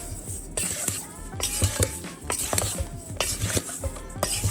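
Salmon bites being mixed with Old Bay seasoning and thyme in a bowl, close scraping and clinking of a utensil in uneven strokes, with a faint sizzle underneath.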